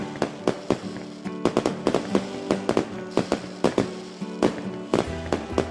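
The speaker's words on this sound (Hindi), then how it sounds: "घर के बाहर पटाखे जला रहे थे" Firecrackers set off outside houses during Diwali celebrations, a rapid series of sharp cracking bangs at an irregular rhythm, loud and close, over a constant crackling background.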